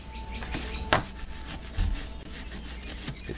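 Rust is scraped off an old Coes wrench with steady rubbing strokes, close and moderately loud, with a sharper scrape or knock partway through.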